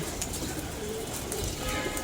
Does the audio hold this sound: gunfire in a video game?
no